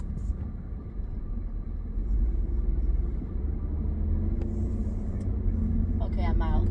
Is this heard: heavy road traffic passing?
yes